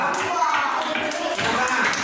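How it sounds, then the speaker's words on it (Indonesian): Applause for a student group fills a classroom, a steady dense patter of many hands clapping together over the whole span at even loudness. "Baik, tepuk tangan untuk kelompok 2."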